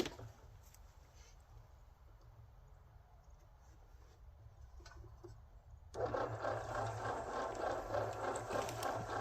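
A concrete mixer drum spins with water inside before bags of concrete go in, giving a continuous rattling mechanical churn that jumps noticeably louder and busier after several seconds.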